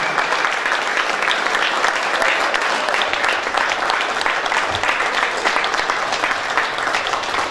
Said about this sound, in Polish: chociaż ciepłe słowo i gorące brawa